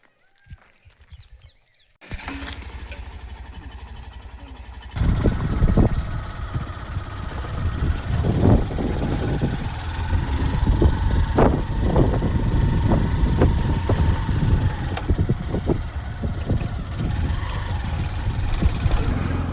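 A motorcycle carries a rider toward a riverbank in rural India, its engine starting up after a quiet moment and then running steadily. The broadband rumble stays loud and close throughout, with occasional knocks and bumps along the way.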